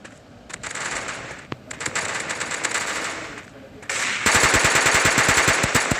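Rapid automatic gunfire from a mobile shooting video game, bursts of shots rattling in quick succession and growing denser and louder toward the end, with a voice talking excitedly over it.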